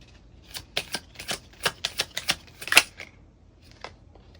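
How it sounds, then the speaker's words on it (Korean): Tarot cards being shuffled and drawn, heard as a quick run of crisp card snaps and flicks that bunch together, then trail off into a few sparse taps, close and alone with no talk. "한 달 단위로 3장의 카드 뽑아보도록 할게요"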